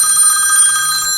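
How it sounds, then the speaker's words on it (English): A mobile phone rings up close with a steady, bright electronic bell-like tone held for about a second. "hold on a second, that's my phone"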